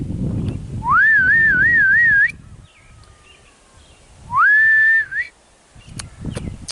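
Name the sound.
person whistling to call cows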